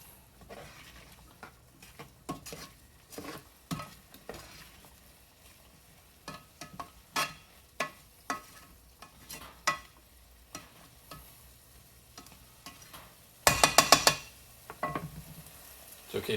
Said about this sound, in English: We're going to keep mixing and stirring this until all of the onions have gone translucent.